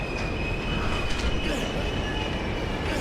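A train rolls along in Condemned: Criminal Origins, a dense continuous rumble with a thin high squeal of wheels on rails and a few metallic clanks, loud and close.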